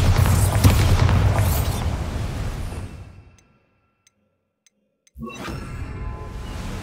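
A Bombarda blasting spell in Hogwarts Legacy goes off as a loud, rumbling boom that fades out over a few seconds, then a brief silence before another burst of noise begins.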